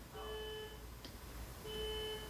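A neighbour's home alarm system sounds faintly from a distance, two short bursts of a steady electronic beeping tone separated by a brief gap, then cut off.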